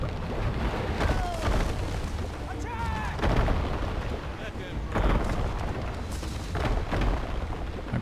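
Units trade fire in a Humankind strategy battle, a steady barrage of booming artillery-like shots and impacts layered with bursts of gunfire, loud and continuous across the clip, with a voice talking over it.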